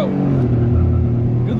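A Toyota GR Corolla launches hard on a track, its engine droning loudly and steadily as it accelerates, with a person talking over it.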